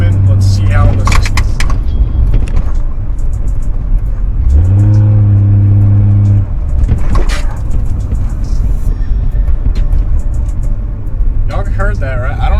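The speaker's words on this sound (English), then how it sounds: "But these coils are actually pretty loud." Coilover suspension on a Toyota Cressida MX83 fitted with S13 coilovers, heard from inside while driving over bumps: continuous road and engine rumble with a strong low droning burst mid-way, and people talking briefly.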